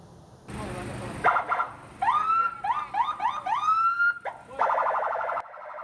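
An ambulance siren whoops in a quick run of rising wails, loud and close, with bursts of other noise before and after.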